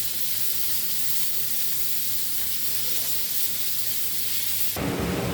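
Stuffed bombil (Bombay duck) fish filled with prawn mince frying in oil, a steady close hiss and sizzle, with a sharper burst near the end.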